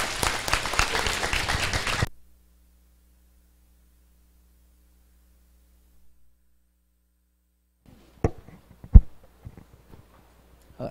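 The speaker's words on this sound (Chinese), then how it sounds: "过再一次热烈掌声欢迎他" An audience in a meeting hall gives a burst of dense applause that lasts about two seconds and then cuts off into near silence, followed later by a few scattered, sharp claps and knocks.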